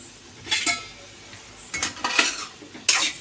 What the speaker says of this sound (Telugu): ఇప్పుడు మనమైతే మూత తీసి కలుపుకున్నాం